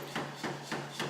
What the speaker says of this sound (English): I put it into a different power hammer now.